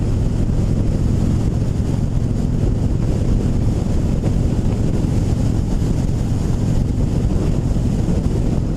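A 2016 Harley-Davidson Dyna Low Rider FXDL is ridden at about 2,500 RPM with no windshield, its engine drone buried under a loud, constant roar of wind buffeting the microphone, with no talking.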